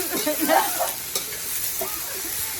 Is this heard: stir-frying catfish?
yes